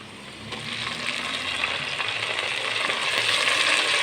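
Spice paste fries in hot ghee for an aloo matar pulao, a steady, dense sizzle that grows slightly louder toward the end, close up and with no talking.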